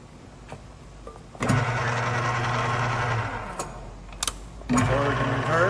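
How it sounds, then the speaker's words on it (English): Rex model 6390 2-inch pipe and bolt threader with swing-away threading dies running, a steady motor whine and hum with a few sharp clicks and a rise in level near the end. "2-inch Rex pipe and bolt threader"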